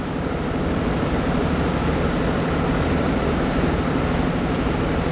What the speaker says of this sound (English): So we're taking a ferry